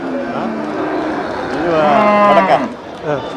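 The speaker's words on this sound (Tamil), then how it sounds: "இது வந்து நாட்டு காளை நாட்டு காளை வண்டி மாடா ரேஸ் மாடா" A native race bull, a cart-racing breed, lows at a busy cattle market in Melapalayam: one drawn-out, mid-pitched moo rises in the middle, heard under steady talk and crowd chatter nearby.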